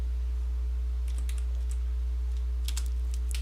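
Keys clack on a computer keyboard in a few brief clusters of taps over a strong low electrical hum, with no speech.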